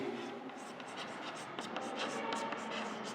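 A pencil in a compass traces an arc across paper, making faint, quiet scratching strokes beneath a low voice.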